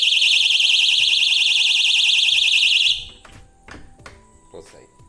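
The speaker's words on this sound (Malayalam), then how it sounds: "ഈ ഒരു പൊസിഷനിൽ ഡോർ ഓപ്പൺ ചെയ്ത് കഴിഞ്ഞാൽ അപ്പോൾ സൗണ്ട് തുടങ്ങും" A cheap door entry security alarm in a home sounds loudly when the door is opened, a rapid warbling electronic siren for about three seconds that then cuts off, followed by clicks and handling noises of the door closing.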